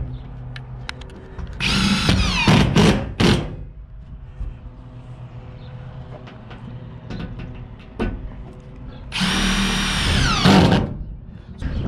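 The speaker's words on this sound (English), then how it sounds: "I'm just gonna go ahead and put some more screws in here." A power drill whines in two bursts, rising in pitch as self-tapping screws drive into barn sheeting, separated by quieter clicks and handling noises.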